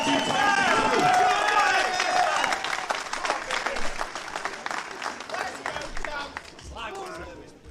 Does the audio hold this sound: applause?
yes